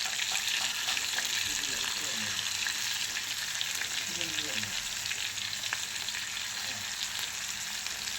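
A batch of fish fries slowly in a pan, giving off a dense, even crackling sizzle that holds steady throughout.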